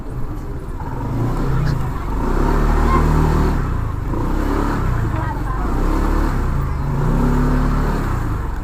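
Cars and motorcycles moving through road traffic, a steady rumbling engine and road noise with rising and falling revs, mixed with ongoing talk throughout.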